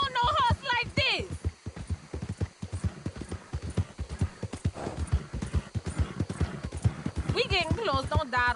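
Steady clip-clop of horse hooves plodding along, with a horse whinnying and people talking loudly over the rhythmic hoofbeats.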